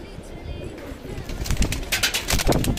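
Madrasi pigeons coo softly nearby, with busier fluttering, rustling bursts building in the second half.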